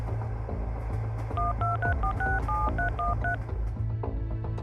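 A rapid sequence of touch-tone dialing beeps in the video game Choo Choo Charles, about a dozen short tones in a row, over a steady electronic background hum.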